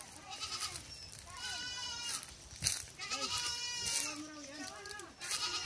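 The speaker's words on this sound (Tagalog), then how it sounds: "mga ngatay ng kambing, andito na" Goats bleating repeatedly with wavering, quavering cries, several animals overlapping close by, with people talking underneath.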